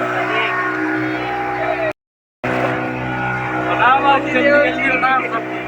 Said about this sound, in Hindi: सबका मशीन आवाज आ रही है यहाँ पे, मोटर की आवाज।